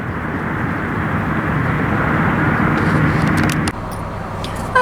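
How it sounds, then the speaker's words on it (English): A car drives along a road through the Yolo Bypass Wildlife Area wetlands, with a steady, close engine and road roar that drops suddenly near the end. "As we drive along in the wetlands"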